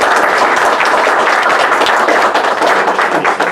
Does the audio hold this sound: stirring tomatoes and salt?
no